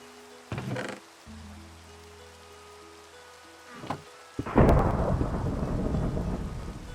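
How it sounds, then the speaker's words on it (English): Minecraft thunderstorm: two distant thunder rumbles, then a loud crack of thunder rolling into steady heavy rain, with no talking. "Oh, it looks like it's thunderstorming, actually."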